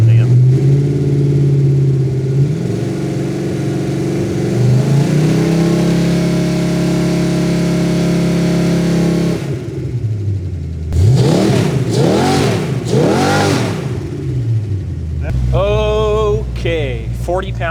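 A Buick 350 V8 runs on a dyno, its engine droning and shifting pitch loudly before revving up and down in several sharp bursts, with voices talking over parts of it.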